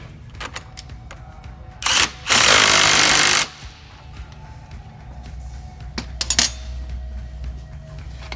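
Bolt and nut being tightened with a power tool on a John Deere air cart meter roll during a rebuild: one loud, steady mechanical burst of about a second and a half, with light clicks and handling noises before and after.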